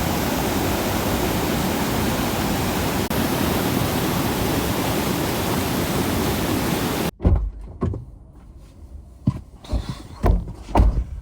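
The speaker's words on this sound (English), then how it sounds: "that is still an absolute tank of a waterfall" Niagara's American Falls roaring as a steady, loud, broadband wash of falling water for about seven seconds, then cutting to a quieter scene with scattered bumps and faint background noise.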